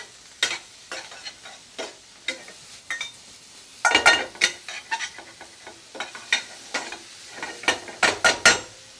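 Raw mushrooms fry in roughly two chef spoons of oil for a restaurant-style mushroom bhajee, giving a soft sizzle under intermittent spoon scrapes and clinks against the pan, loud and close.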